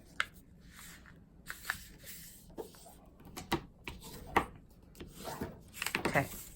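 A paper fold is burnished flat while a craft ephemera pocket is made, giving soft, scattered rubbing and scraping strokes that are faint and close, with brief sharper taps between them.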